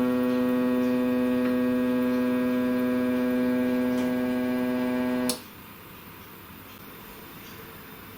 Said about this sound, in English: tell the machine to go and find the home position.